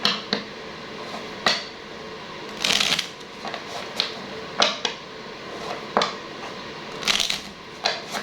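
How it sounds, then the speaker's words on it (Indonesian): Tarot cards shuffled by hand, making a steady patter of soft riffles broken by sharper snaps and clacks at irregular intervals. Close and alone, with no talk. "Kita kocok dulu kartunya ya."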